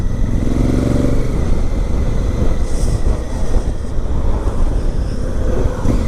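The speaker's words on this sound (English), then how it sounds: "Bike sounds awesome, I love it." A 2017 Honda Africa Twin motorcycle rumbles loudly and steadily while being ridden on a daily commute, with a continuous engine drone and rushing wind noise close to the mic.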